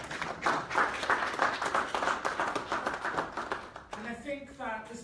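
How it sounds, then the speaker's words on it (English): An audience at a Nigerian business forum applauds in a sustained spread of many hands for about four seconds, then the clapping fades as a speaker begins talking. "Please, another round of applause."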